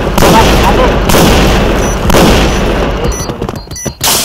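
Dense, rapid gunfire from the online shooter Point Blank, with loud overlapping shots and booms running almost continuously before thinning out near the end.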